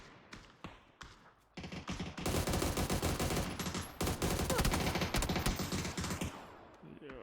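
Gunfire in the battle royale game PUBG during a clan match, a few sparse shots followed by a long dense burst of rapid automatic fire, loud and continuous, with players talking.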